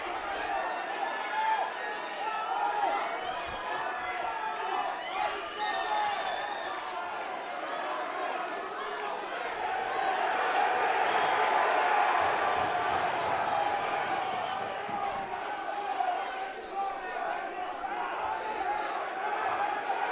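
Crowd noise from spectators at a Triton Fights MMA bout between John Gotti III and Anthony Wolter, a sustained roar of cheering and shouting through the closing seconds that swells loudest midway, with no commentary over it.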